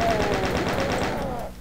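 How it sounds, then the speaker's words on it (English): Rapid gunfire fills Ultimate Doom, a fast, loud, evenly spaced stream of shots that runs the whole short moment, with a game tone sliding underneath. "secret is fire your gun"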